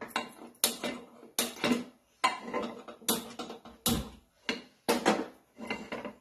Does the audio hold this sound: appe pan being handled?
yes